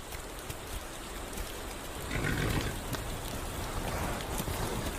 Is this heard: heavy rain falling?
yes